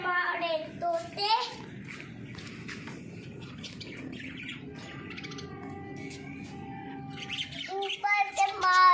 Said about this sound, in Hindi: और ये देखिए हमारे तोते